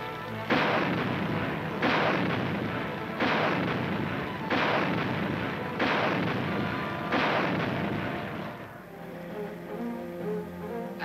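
Anti-aircraft guns fire during weapons testing, six loud booming rounds evenly spaced about a second and a half apart, each with a long rumbling tail, then the firing stops and a low hum remains.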